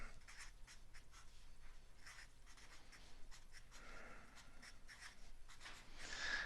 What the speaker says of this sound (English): Now I'm going to write sohcahtoa out this time.